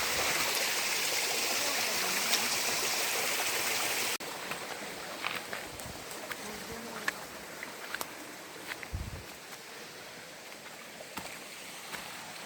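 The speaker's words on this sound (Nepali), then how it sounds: "यतातिर चाहिँ हाम्रो पानीको मुहान" Water running steadily from a spring source along a forest path, a constant broadband rush that is louder for the first few seconds and then continues more softly with small clicks and knocks nearby.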